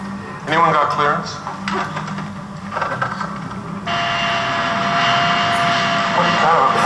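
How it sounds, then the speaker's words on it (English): A jet aircraft taxis on an airport ramp, its engine whine steady and close, growing louder and more sustained in the second half, with people talking over it. "Aircraft taxi on ramp."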